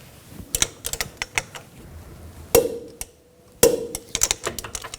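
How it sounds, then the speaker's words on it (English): A torque wrench tightens a rear wheel hub bolt on a 2000-2006 BMW X5: sharp metallic ratcheting ticks in quick irregular bursts, with two louder clicks from the wrench, up close in a quiet workshop. "Now we're going to torque this bolt to 94 foot-pounds."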